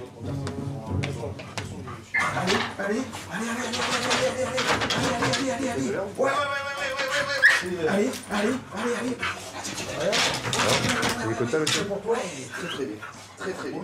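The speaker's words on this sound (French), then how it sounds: "Un chien renifleur capable de débusquer." A drug-sniffer police dog whimpers and whines excitedly during a house search, panting between cries, while people talk in French over it throughout.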